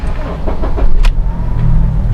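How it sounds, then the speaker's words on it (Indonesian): A 2007 third-generation Honda CR-V engine starts up close by: a few cranking pulses, then it catches and settles into a low, steady idle rumble. No one speaks. "Sekarang kita hidupin mesinnya."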